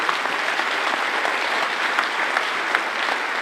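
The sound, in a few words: audience applause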